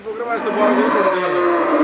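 Dairy cows moo close by at a cattle sale, a sustained lowing call filling the short stretch, with a busy background of other animal and crowd noise.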